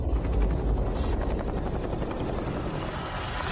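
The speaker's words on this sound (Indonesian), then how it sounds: "Helikopter hanya bisa mendarat di sini." A helicopter arrives in a dramatic scene, its steady rotor and engine roar filling the space at close range, unbroken and without talk.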